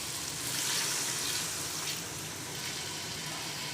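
Water pours into a pot of frying goat meat with big bones over a low flame, a steady hiss and sizzle that swells briefly and then settles.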